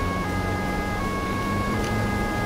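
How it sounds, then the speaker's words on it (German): A police siren in the game Autobahn-Polizei Simulator 2 wails steadily through a dense, noisy mix of engine rumble and game sound effects, fairly loud throughout. "Also da kommt jetzt hier die Sirene rein."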